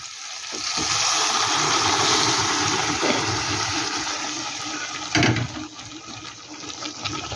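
Cooked ghugni masala is poured into a pot, a sustained wet rushing and splattering sizzle close by, with a louder splash about two-thirds through before the sound settles.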